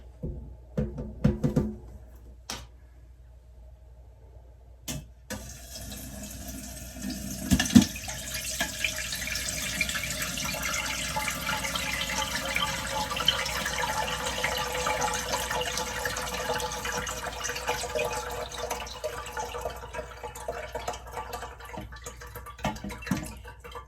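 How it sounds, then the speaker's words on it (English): Watermelon rind pickle liquid poured from a container through a colander into a pot, starting with a few knocks and clatters, then a long, steady splashing pour that runs on close and even. "we want to dump all the liquid out of here and get it in that pot"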